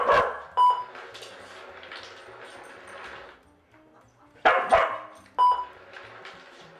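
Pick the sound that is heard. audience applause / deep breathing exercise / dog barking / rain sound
dog barking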